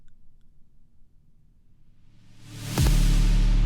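A synthesized cymbal roll with a volume-automated crescendo: it starts nearly silent, builds steadily into a rushing shimmer and peaks in a loud hit with a sustained ringing tail, with no voices.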